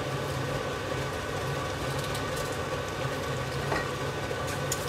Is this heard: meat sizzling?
yes